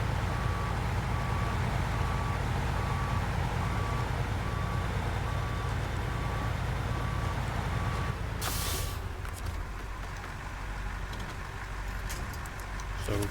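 A truck in SnowRunner sounds steady, evenly spaced reversing beeps over a loud, constant engine drone, then the beeping stops and a sharp clunk follows as the engine keeps running.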